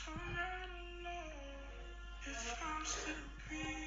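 An electronic track, heard faintly as a melodic synth line with shifting sustained notes and light percussive hits, playing on its own without talking.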